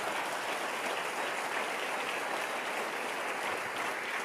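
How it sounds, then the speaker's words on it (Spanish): Steady, dense applause from a church congregation fills the space evenly, a continuous wash of many hands clapping without pause and no voices on top. "Démosle un aplauso al Rey bendito"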